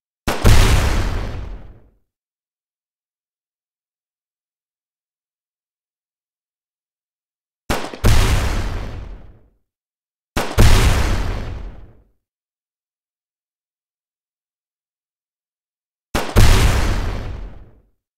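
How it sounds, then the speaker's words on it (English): Four separate grenade launcher explosions in a Unity-made Project Zomboid-like game, each a loud booming blast with a short fading tail, separated by long stretches of silence. "the grenade launcher can also create a ranged explosive damage over targets in"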